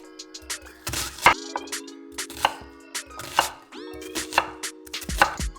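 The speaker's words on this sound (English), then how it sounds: "Let's start by chopping the vegetables." Half an onion chopped with a knife on a cutting board, a series of crisp, uneven knocks close up with short pauses between strokes, no talking.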